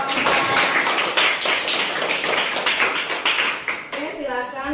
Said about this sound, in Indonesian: kasih tepuk tangan kepada kelompok